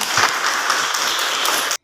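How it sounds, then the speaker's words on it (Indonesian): A classroom of children and their teacher clapping together in a short burst of applause, steady and dense for nearly two seconds before cutting off sharply. "tepuk tangan untuk kita semua"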